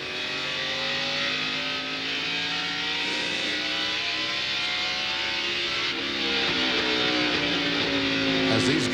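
NASCAR race cars roar around the track at the 2000 Pontiac Excitement 400, a continuous loud wash of engine noise with cars sweeping past.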